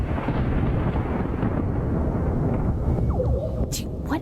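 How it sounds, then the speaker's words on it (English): Strange, otherworldly thunder rumbles through a Florida storm as a deep, continuous roar that stays loud throughout, with a few brief higher whooshing sounds near the end. "The thunder sounds bizarre."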